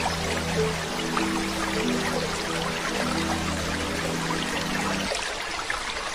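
Sea water washes and pours steadily as a boat carries people across a deep sea, a continuous close rushing stream with no talking, cutting off shortly before the end.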